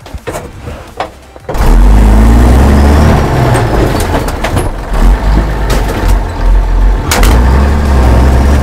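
A truck engine starts up loud and near after a quieter opening, then runs with a heavy low rumble and shifting revs as the truck is moved forward during a truck-versus-bike crash test demonstration.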